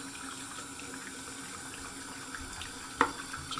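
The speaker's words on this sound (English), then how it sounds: "I'm just going to rinse off my brush here real quick." A makeup brush is rinsed under a running bathroom tap, a steady close stream of water splashing into the sink with a small knock near the end.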